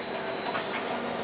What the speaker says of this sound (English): That's the driverless train down at the metro.